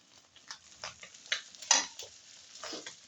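Noodles with egg cooking in a pan in a quiet morning kitchen, heard as faint soft scrapes and light clinks of a utensil at irregular intervals over near silence, no talking.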